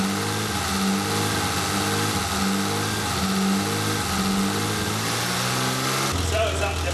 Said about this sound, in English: I'm going to rev it up again